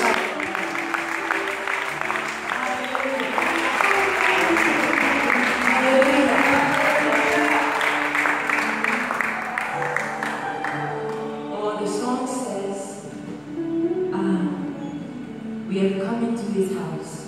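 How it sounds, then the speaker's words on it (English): A gospel performance audience claps and cheers over ongoing music and singing, with loud, steady rhythmic clapping through the first ten seconds before it thins out beneath the music. "Somebody clap your hands and shout."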